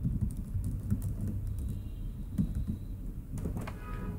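Quiet computer-keyboard typing as demo credit card details go into a CS-Cart payment form, with steady soft key clicks over a low hum and no talking.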